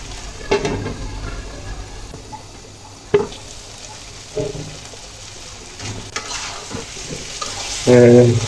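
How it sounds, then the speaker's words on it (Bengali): Tomatoes are stirred and fried in a pan for a small fish curry, giving a soft continuous sizzle broken by a few sharp scrapes and clacks of the spoon against the pan, close and fairly loud, with no speech. "এই টমেটোগুলো এভাবে নেড়ে চেড়ে দিচ্ছি নেড়ে চেড়ে কষিয়ে নিচ্ছি"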